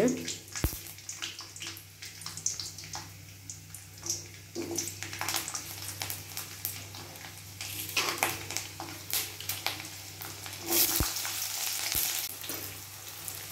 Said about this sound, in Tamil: இப்போ நம்ம வெங்காயம் வதங்கிட்டு இருக்கிறப்ப